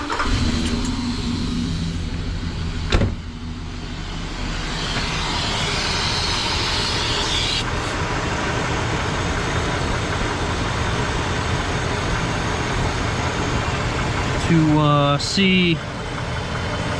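The Griswold Family Truckster, a car whose oil pressure is being checked, idles with a steady low engine rumble throughout, under a man's speech, with a brief click and a short rising tone near the end.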